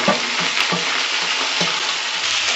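Tomatoes, ginger-cumin paste, salt and turmeric sizzle steadily in a pan while being stirred for an egg curry, with dense continuous frying hiss and soft periodic scrapes of the spoon, close and unbroken with no talking.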